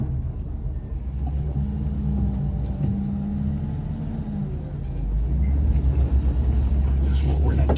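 A Peterbilt truck engine rumbles low and steady as it works up a small gravel hill, getting louder and heavier toward the end, with a voice talking over it.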